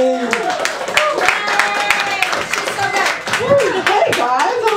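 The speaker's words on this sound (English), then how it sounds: "Can we have a big round of applause for Aliza Ghandhi?" An open mic audience claps and applauds loudly and continuously, with scattered voices and a few cheers mixed into the dense clapping.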